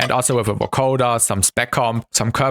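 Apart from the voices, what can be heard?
No distinct noise like a dog, phone or traffic.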